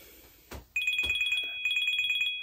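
A telephone rings with two bursts of rapid electronic trilling bells, loud and close, preceded by a couple of soft thumps, with no one speaking.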